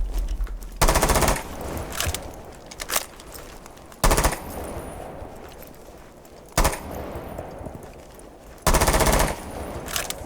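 Automatic rifle fire in Rainbow Six Siege comes in loud, sharp bursts, four distinct volleys spaced a couple of seconds apart, with quieter game ambience between them.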